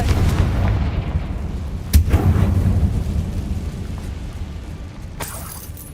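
A Confringo blasting spell explosion in the Hogwarts Legacy video game, a loud deep booming blast with a sharp crack near two seconds, rolling rumble that slowly fades, and a lighter impact toward the end.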